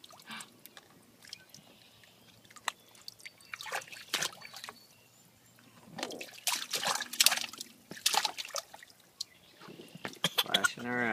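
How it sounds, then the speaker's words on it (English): A child splashes around in a small frog-shaped paddling pool, with irregular bursts of splashing and dripping water, some loud and close, between quieter moments and voices nearby. "Splashing around."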